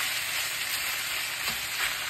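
Chicken breast frying in a pan, giving a dense continuous sizzle with faint crackles, close and steady throughout with no talk.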